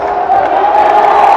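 Indoor men's college volleyball crowd, Carthage against North Central, roars and cheers steadily at full volume with whoops and shouts through a timeout late in the fourth set.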